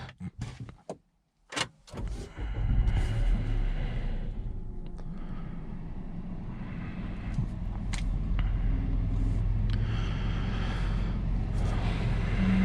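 A 2021 Opel Crossland X engine starts by push button after a few faint clicks and a door-like thump, then settles into a steady low idle rumble inside the cabin, with no talking.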